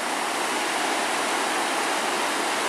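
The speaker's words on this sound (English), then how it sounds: "And I can hear the river rushing, the Brule River." The Brule River rushes over rapids as a loud, steady, broadband roar of churning water, close and unbroken, with no voices.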